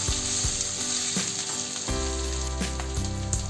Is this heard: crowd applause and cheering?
no